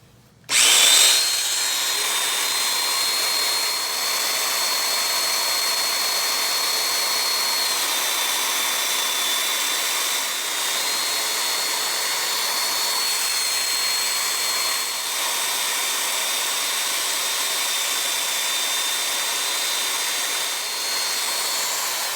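A steady, high-pitched Festool plunge joiner whine cutting mortises runs continuously with a vacuum extractor's roar beneath it, loud and close, holding nearly constant from start to finish.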